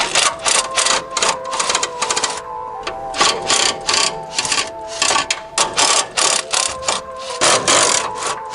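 A ratchet wrench loosens passenger-side motor mount bolts on a vehicle during a drivetrain mount upgrade: close, repeated bursts of rapid clicking come in uneven strokes with short pauses, and no one speaks.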